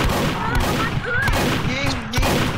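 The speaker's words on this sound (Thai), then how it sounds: "ยิงมันอีก รอ ยิงมันอีก" Rapid gunfire from a Roblox horror game, Lost Rooms, rattles in quick bursts under a busy game soundtrack with tonal effects, loud and close throughout.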